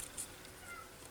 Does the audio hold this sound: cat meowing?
yes